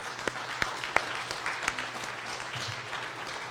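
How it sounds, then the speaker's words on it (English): Sparse applause at a hospital graduation ceremony, with a few sharp nearby claps standing out over a soft, thin spread of clapping that fades toward the end. "So a round of applause."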